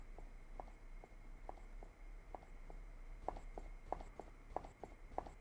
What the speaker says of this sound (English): If we press C, you will notice our footstep sound will get low.